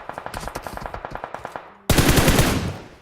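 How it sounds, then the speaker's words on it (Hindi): Rapid automatic gunfire rattles in BGMI, with about fifteen evenly spaced shots followed by a louder, denser burst of fire that fades out, all prominent with no talk over it. "इसके टीममेट ने पीछे की साइड से कवर फायर दिया"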